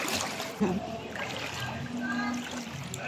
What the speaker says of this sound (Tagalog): Ang lakas pa ng agos.